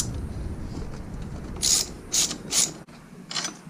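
A ratchet wrench clicks in several short bursts while loosening the swing arm bolts on a GY6 scooter, close up over a low background rumble, with pauses between strokes.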